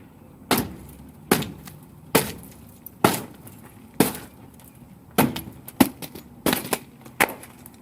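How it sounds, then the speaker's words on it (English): Laminated bus window glass being pushed out from the inside with a Halligan bar: about ten sharp, separate cracking and crunching impacts spaced unevenly over several seconds, loud and close, with no talking. "We're going to use a Halligan bar and push it out from the inside out."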